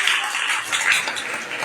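Audience applause at a religious sermon gathering, a brief dense patter of many hands clapping at steady volume throughout.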